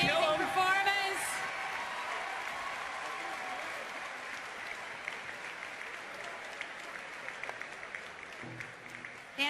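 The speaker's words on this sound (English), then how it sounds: "That definitely deserves a big round of applause for an amazing performance." Audience applause after a dance contest performance, sustained clapping from a crowd that fades from loud to a steady patter, with voices talking over it.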